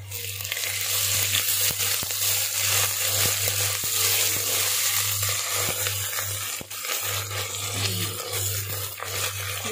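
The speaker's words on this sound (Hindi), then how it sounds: "अब हम इसमें जिंजर गार्लिक पेस्ट ऐड कर देंगे इसको हम सौते कर लेंगे थोड़ा सा" Light golden onions with ginger garlic paste sauté in a pan for minced meat biryani, giving a steady close sizzle with scattered stirring clicks and scrapes beneath a constant low electrical hum, no talk.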